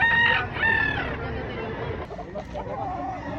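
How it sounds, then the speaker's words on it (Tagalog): A rooster crows loudly and close at a chicken market in Lipa, two drawn-out calls in the first second, followed by softer clucking and market chatter, with people talking throughout. "Napakagandang manok."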